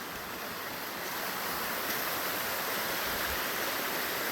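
Creek water rushing over rocks, a steady dense broadband wash without pauses, close and moderately loud, with no voices.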